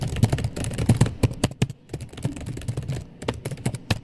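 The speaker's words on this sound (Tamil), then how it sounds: "அம்மா, அப்பா எவ்வளோ ஸ்பீடா டைப் பண்றாரு பாருமா." Fast typing on a computer keyboard, a rapid, uneven run of sharp plastic key clicks with a brief pause midway, close up and with no voices.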